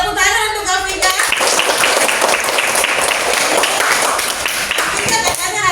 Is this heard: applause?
yes